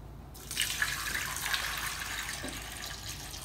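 Water pours steadily into a cooking pot holding cloves and cumin, a continuous close splashing rush that starts abruptly and carries on without talk.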